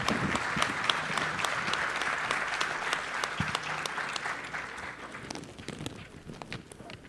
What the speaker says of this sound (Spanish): el doctor Víctor Alejandro Salcido González, para el cual pido un aplauso.